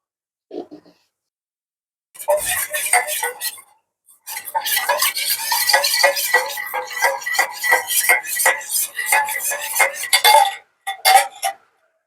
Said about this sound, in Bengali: এই কর্নফ্লাওয়ারটা আমি একটু সামান্য জলে গুলে নেবো